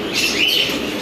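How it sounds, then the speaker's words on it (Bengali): Racer pigeons coo and chirp in a pigeon shop, a brief, fairly close burst of bird calls over a steady background hum. "এই যে এখানে এক জোড়া রেসার মিলি কবুতর"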